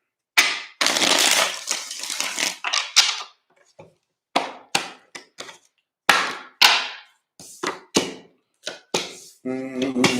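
A tarot deck shuffled three times during a reading, heard as a long riffle followed by a series of short crisp card snaps and taps at close range, with a brief voice near the end.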